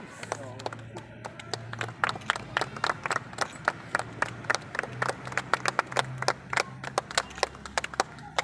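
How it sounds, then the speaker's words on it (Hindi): Applause at an honouring ceremony, a run of sharp, fairly close claps in an uneven rhythm over a murmuring crowd, with someone speaking through part of it. "आपकी ज़ोरदार तालियों के बीच में सम्मान प्राप्ति हेतु"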